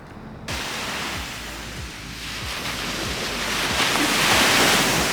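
Heavy ocean surf breaking at the Hossegor beach break on the French coast, a steady loud roar of crashing waves with wash and spray building toward the end, no voices.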